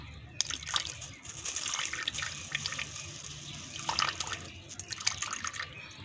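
Distilled water is poured outdoors to make a lye solution for neem soap, with a continuous splashing trickle and small drips that rise and fall in loudness.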